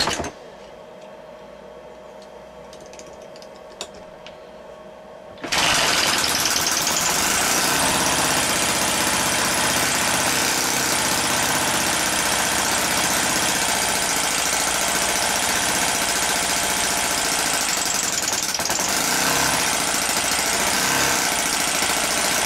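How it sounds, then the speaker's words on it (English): A Nipsa 7.5 OHV four-stroke engine starts up after a quiet stretch, then idles loud and steady at close range with a dense, even mechanical rumble and no talking. "it certainly makes a difference to the running of this engine"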